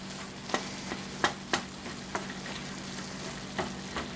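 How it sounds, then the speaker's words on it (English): Garlic-seasoned food sizzles in a pan under a steady hiss, with several sharp scrapes and knocks from stirring close by and no talking. "I'm just going to stir this up real quick"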